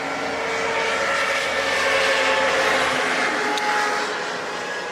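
JetBlue airliner at an airport gives out a steady, fairly loud jet engine roar and whine, heard from a distance, that swells slightly and then holds.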